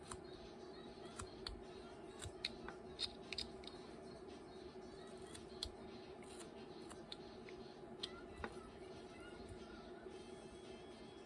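A carving knife cuts a small V groove to a stop in wood while carving eyes. Faint, close scraping and clicking cuts repeat irregularly over a quiet background.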